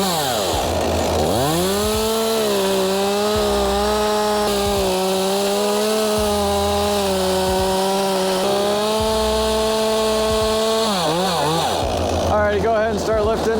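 A chainsaw cuts a face notch in a tree during rigging work, its engine whining at a high steady pitch that dips and rises as the bar bites, loud and close, with brief shifts in load.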